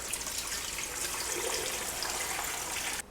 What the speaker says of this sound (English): fill this and cover this with water.